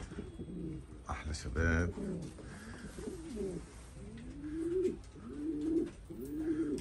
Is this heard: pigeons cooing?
yes